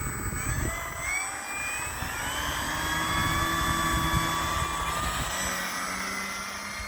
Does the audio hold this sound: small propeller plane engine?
yes